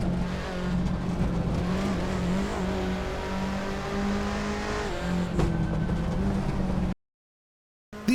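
Fiat racing car in the driving game Assetto Corsa, its engine revving hard and steadily close up with gear-shift dips and brief tire noise, loud and continuous before cutting to silence near the end, no voices.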